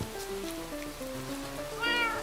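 A cat meows in short harmonic calls, ending with a louder, higher cry near the end over steady background noise.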